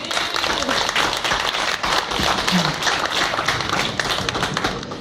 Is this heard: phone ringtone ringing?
no